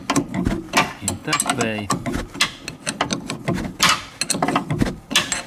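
A ratchet or wrench works the upper rear shock bolt on a Toyota Corolla with rapid clicking runs and metallic knocks, close up, while someone talks over it.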